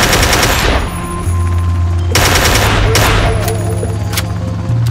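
Rapid automatic gunfire in a Ring of Elysium match, aimed at a player climbing a ladder, bursts of loud shots repeating across the whole stretch with a low engine-like drone and faint voices underneath.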